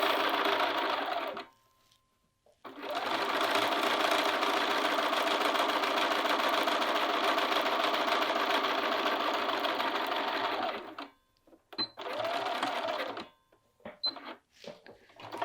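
Sewing machine edge stitching around a short sleeve cuff, a loud steady mechanical whir running for about nine seconds after a brief burst, then short stop-start spurts, with no talking.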